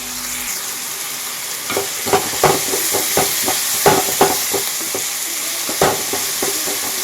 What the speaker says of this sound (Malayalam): ഈ ചതച്ച് വെച്ചിട്ടുള്ള ഇഞ്ചി വെളുത്തുള്ളി ഇട്ട് കൊടുക്കാം